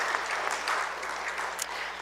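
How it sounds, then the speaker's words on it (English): A church congregation claps together during a Sunday service, a steady, fairly distant wash of applause that lasts throughout the clip, with a faint voice or two barely audible underneath. "So give yourselves a round of applause."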